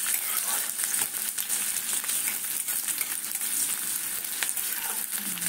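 Onion, garlic and ginger frying in oil for a five-lentil egg dal tadka, a continuous close crackling sizzle with scattered sharp pops and stirring scrapes, no talk.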